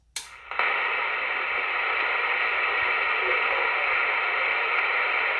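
A 1977 Uniden President Grant CB radio on receive during morning DX skip: a switch click, then steady loud hissing static that fills the channel with no voices coming through.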